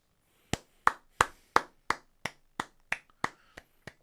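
Slow, evenly spaced single hand claps in honor of Kevin Keegan, about ten sharp, dry claps close by, each ringing briefly before the next, with no crowd audible.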